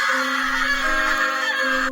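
A boy screams loudly in a horror story, one sustained, close shriek that carries on for about two seconds before cutting off abruptly.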